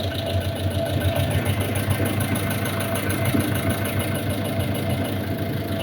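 A 2020-model Tata X2 engine, under fuel-pump servicing, runs with a low steady idle rumble and mild knocking texture as the accelerator is pressed, the revving staying fairly even and close without talk.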